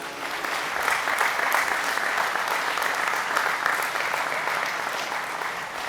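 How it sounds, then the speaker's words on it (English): A crowd at a high school graduation applauds steadily, dense clapping sustained at an even level from start to finish. "Let's give them a round of applause."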